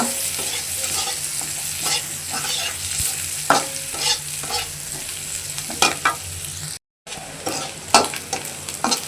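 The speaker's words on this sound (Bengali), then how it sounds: "পেঁয়াজগুলো আমি একটু লাল লাল করে ভেজে নিব" Onions frying in a pan after fish, a continuous close sizzle with repeated spatula scrapes and knocks at an uneven rhythm, and a brief silent break partway through.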